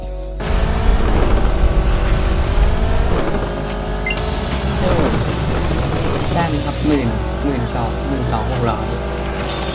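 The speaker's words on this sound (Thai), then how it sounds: "เป็นการขับรถเฉยๆครับ" Engine of a car driven in the Roblox game Drive World, a steady continuous drone with shifting pitch running throughout, with a voice talking over it.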